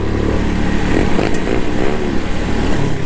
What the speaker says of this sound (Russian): А, Пашка довольный, газует.